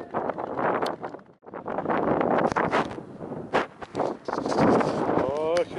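Gusts buffet the microphone in loud, rumbling bursts while people shout and talk excitedly over the roar.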